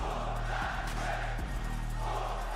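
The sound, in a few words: wrestling arena crowd cheering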